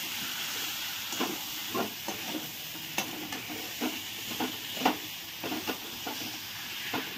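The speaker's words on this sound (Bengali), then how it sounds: "আলু দিয়ে ভালো করে এখন নেড়ে চেড়ে একটু আলুর সঙ্গে কষিয়ে নিচ্ছি।" Potatoes with spices for an egg and soybean biryani fry in a pan, a soft constant sizzle and hiss under repeated scraping stir strokes that come at an irregular pace.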